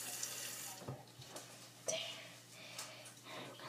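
Water running from a tap into a sink, a soft steady trickle with brief clunks and splashes, close and quiet, with faint breathing.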